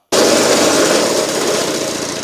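A Victa two-stroke go-kart engine idles with a loud, buzzy, steady drone that starts abruptly and holds close and constant, with no voices over it.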